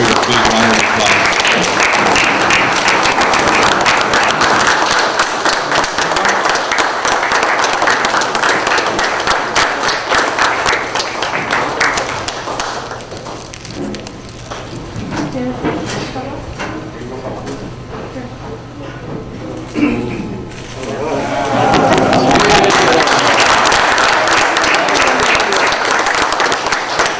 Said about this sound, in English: ladies and gentlemen, let's give Jared a big round of applause.